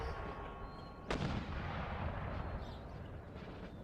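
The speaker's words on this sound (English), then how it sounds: "Keep up the barrage." An artillery barrage in the Empire: Total War battle game, one sharp cannon report cutting through a dense, continuous rumble of distant battle noise and gunfire.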